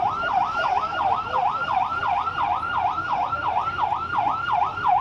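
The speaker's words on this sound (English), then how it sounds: "Blaring sirens" A loud wailing emergency siren cycles rapidly up and down, continuous and steady, with traffic rumble underneath.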